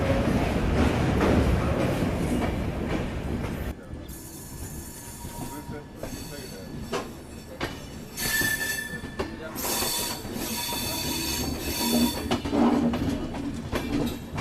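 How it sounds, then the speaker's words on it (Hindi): A train at Pathankot Cantt railway station squeals loudly on its wheels, with hissing and clattering carriages. Bursts of sharp, high metallic screech come and go over a steady rolling rumble. "ये है पठानकोट कैंट रेलवे स्टेशन"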